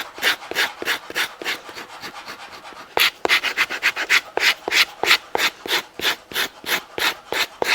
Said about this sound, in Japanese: 角部分やすりがけして